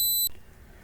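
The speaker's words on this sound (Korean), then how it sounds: "전원을 끄면 역시 failsafe가 발동되면서 부저가 울리는데" A drone flight controller buzzer sounds on radio failsafe, giving a single short high electronic beep that cuts off abruptly after about a quarter second.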